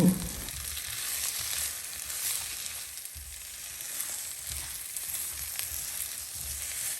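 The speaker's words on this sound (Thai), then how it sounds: "แล้วก็ใส่เต้าหู้ลงไปผัดคลุกเคล้าให้เข้ากัน" Tofu stir-fried over low heat with cinnamon, cardamom, cloves and coriander seeds, a soft continuous sizzle with faint stirring, fairly quiet and steady, no voices.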